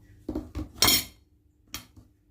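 Dishes and cutlery clink as a breakfast plate is arranged, giving four or five short, close knocks and scrapes with small gaps between them.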